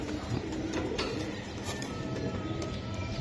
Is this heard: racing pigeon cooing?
yes